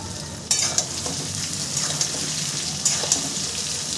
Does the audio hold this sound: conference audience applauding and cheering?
no